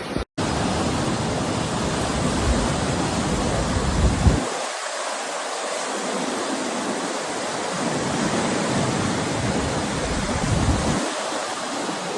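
Floodwater surges against a bridge in Scotland, a continuous loud roar of rushing water that briefly dips before swelling back, with no voices.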